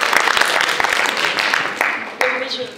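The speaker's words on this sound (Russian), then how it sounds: "Аплодисменты, конечно." Audience applause at a Miss Image 2014 beauty pageant semifinal, a steady dense wash of clapping from a hall crowd, with a voice breaking through near the end.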